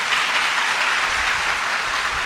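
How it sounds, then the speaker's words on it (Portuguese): A church congregation applauding, a dense, even roar of many hands clapping at once, loud and sustained throughout. "Dê uma salva de palmas bem forte para o Senhor."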